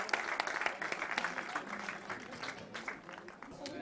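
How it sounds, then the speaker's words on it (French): Applause for the junior road race winner at a cycling event, a steady crowd clapping at close range for about four seconds with a voice briefly audible over it. "vous pouvez applaudir encore une fois le vainqueur de la course en ligne junior de cet après-midi"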